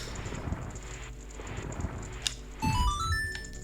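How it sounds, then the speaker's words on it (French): A ringing, ringtone-like chime in The Legend of Zelda: Ocarina of Time, a run of bright rising and stepping tones entering suddenly near the end over a low game backdrop. "C'est marrant, on dirait une sonnerie de téléphone."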